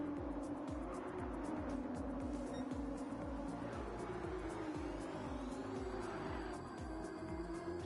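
Race cars roar around the track at BB Raceway in the Mobil1 500, engines rapidly pulsing and passing close with tires squealing, the loud drone carrying continuously without talk.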